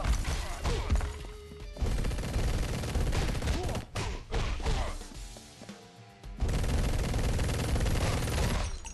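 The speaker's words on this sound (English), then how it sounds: "Man, I keep getting hit by that gun." Dense video-game gunfire from Mr. Shifty, with bursts and crashing impacts packed together over a loud, busy game soundtrack. A brief lull comes near the middle before the barrage returns at full level.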